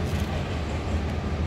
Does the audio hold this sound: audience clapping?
no